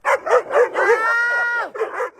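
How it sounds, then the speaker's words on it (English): A pack of dogs near a levee by Walker Slough bark and yip in quick, loud bursts, rising into a long whining howl before more close barks. "This cell phone video shows dogs surrounding Dory Reyes as she yells for help."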